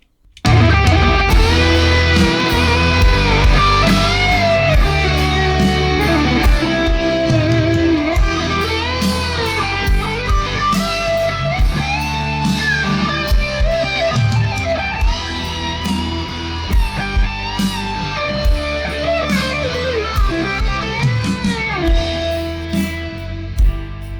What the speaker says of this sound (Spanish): Para el solo en este caso usé la emulación del Soldano sumado a este pedal que me encanta porque le da un poco de crujido